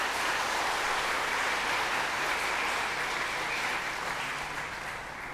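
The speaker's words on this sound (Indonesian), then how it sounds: "Kita beri tepuk tangan untuk mereka semua." A church congregation gives sustained, dense applause at a Christ the King feast service with a school choir. The clapping is steady and even, with no talk over it, and eases slightly at the end.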